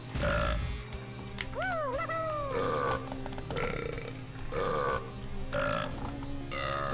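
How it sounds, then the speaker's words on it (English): The Kongs in Donkey Kong 64 let out a run of loud, cartoonish burps, several belches in a row with short gaps between them, some stretched and wobbling in pitch, up close over quiet game music. "It's just them burping"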